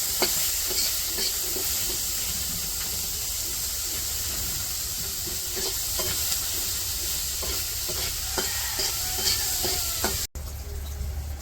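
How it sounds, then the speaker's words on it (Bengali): Dried fish, garlic, green chillies and onion fry together in mustard oil, a loud, continuous sizzle with scraping stirs and bursts of spatter, cutting off abruptly near the end; nobody talks. "আর এটা হচ্ছে সরিষার তেল দিয়ে ভাজতেছে"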